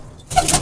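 Pet pigeons cooing close by, a brief soft coo rising suddenly after a near-silent start, with faint wing rustle.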